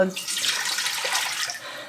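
Tap water runs into a pot for canning brine, a steady close hissing splash that fades slightly at the end, alone without talk.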